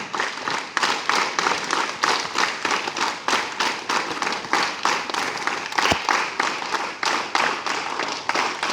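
A group of students at a school morning assembly claps together in rhythm, a steady train of sharp unison claps repeating at a regular pace throughout, with one deeper thump partway through.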